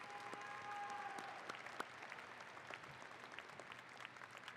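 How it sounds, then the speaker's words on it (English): A graduation audience claps for the mayor, a sustained patter of many hands heard from some distance, fairly soft and steady without cheering. "join me with a round of applause for our mayor"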